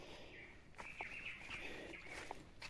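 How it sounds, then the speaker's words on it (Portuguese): Birds sing along a steep forest trail on the Caminho do Itupava, bright chirps and short whistled calls repeating at moderate distance over a soft ambient hush. "cheio de sons dos pássaros"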